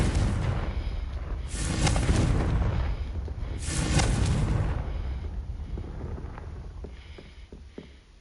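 Booming Confringo blasting spells cast in Hogwarts Legacy, two big, loud explosive blasts a couple of seconds apart, each swelling and rumbling, followed by quieter crackling debris and scattered small impacts.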